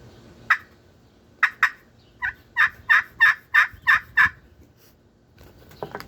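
A zebra wood glass-over-slate turkey pot call worked with an Osage wood striker gives a short yelp, then a run of about eight clear, evenly spaced yelps, loud and close with no talking.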